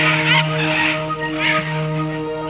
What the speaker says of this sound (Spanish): los pájaros saludan con un ruido ensordecedor la llegada del nuevo día